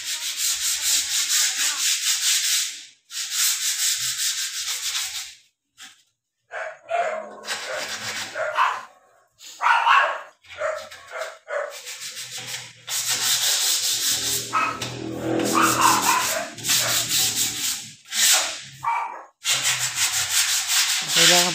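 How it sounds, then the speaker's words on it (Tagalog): Hand sanding with sandpaper over a painted cabinet, loud scratchy strokes in rhythmic bursts with short pauses between, close and dominant throughout. "Kailangan po natin liyain ng dahan-dahan yung napinturahan para matanggal yung mga magagaspang"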